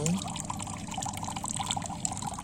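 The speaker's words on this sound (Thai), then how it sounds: "อันนี้ปล่อยน้ำให้มัน ไหลอ่อยๆ" Water trickles slowly into a container holding shrimp, a soft continuous burbling and light splashing heard up close at low volume.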